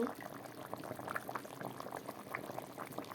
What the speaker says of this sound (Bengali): আমার মাছের ঝুল উত্তান উঠে গেল